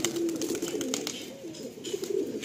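A Madrasi pigeon in a loft coos in a low, throaty rolling call, close and clear over faint background noise.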